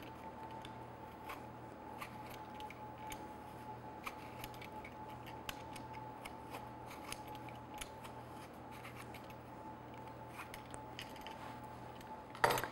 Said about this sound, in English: I actually use like just a vegetable peeler to peel off the skin